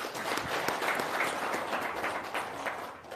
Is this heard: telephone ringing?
no